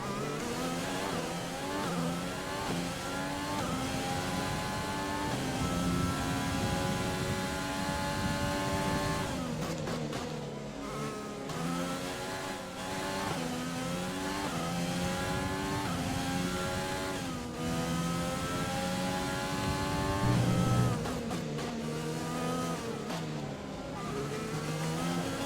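F1 race cars in the F1 2020 racing game at Bahrain, a continuous high-revving engine whine rising and falling through gear shifts, loud and close, with occasional downshift dips and no talking.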